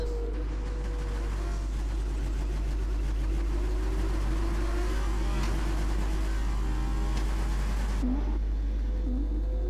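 Formula 2 race cars at the Abu Dhabi Grand Prix drone on with a continuous engine tone, the rev glitch adding small, constant exhaust pops, all sustained and fairly loud before cutting off near the end.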